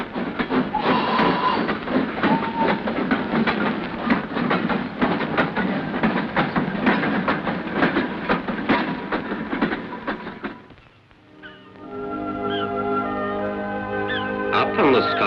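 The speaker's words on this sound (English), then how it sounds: "Every afternoon, the special fish trains pull out of the ports" Special fish train pulling out of a port on the Scottish coast, a steady loud rumble of rolling rail wagons with rhythmic clatter that briefly dips, then a lighter clanking, squealing passage of cars continues.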